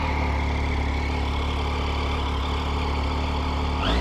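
A motorcycle engine idles to warm up after an oil change, a loud, steady, close-up rumble with an even low throb that holds unchanged for the whole stretch.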